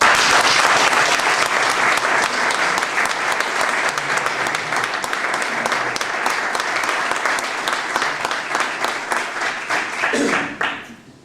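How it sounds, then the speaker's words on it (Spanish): Audience at a cultural talk and colloquium applauding, a sustained dense round of clapping from a room full of people that carries on loudly for several seconds before quickly dying away. "yo de verdad quiero que le deis un aplauso"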